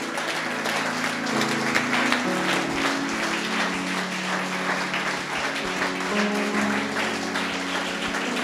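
A church congregation applauding loudly, steady dense clapping filling the whole stretch with a sustained musical tone underneath.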